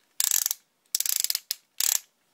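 The hip joints of a Transformers Masterpiece MP-10 Optimus Prime figure ratchet as they swivel, giving three quick bursts of crisp, close clicks with short pauses between them.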